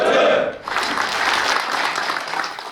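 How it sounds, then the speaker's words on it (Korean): A crowd at a Hyundai Motor union anniversary event breaks into steady, fairly loud applause after a brief stretch of voice, the clapping filling the hall evenly until the end. "힘찬 박수 부탁드리겠습니다."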